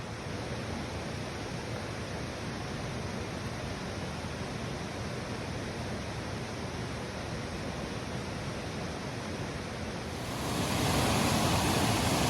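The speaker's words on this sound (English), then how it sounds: "We're getting closer to the waterfall." Waterfall swollen after storms roaring as a steady, dense rush of water that fills the whole scene, growing louder and closer toward the end.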